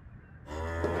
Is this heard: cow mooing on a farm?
yes